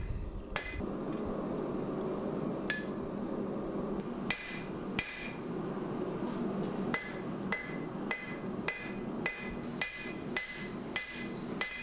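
A twist Damascus steel billet is hammered flat and drawn out on an anvil, heard as sharp metallic strikes that start sparse and then fall into a steady, fast rhythm against a constant background roar from a forge.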